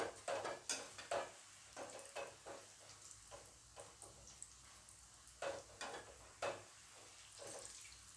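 Mushrooms fry in oil in a pan while a utensil stirs them, giving soft sizzling with intermittent close scraping and tapping strokes, no talk.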